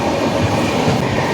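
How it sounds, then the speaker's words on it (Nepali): A Mumbai local train rolls past close by near Lokmanya Tilak Terminus, a loud steady rumble of wheels and carriages with faint rhythmic rail clatter. "मेरो पछाडि चाहिँ मुम्बईको लोकल ट्रेन।"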